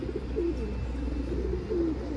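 Pigeons give low, throaty coos in a couple of soft, rolling phrases against a constant low hum of background noise.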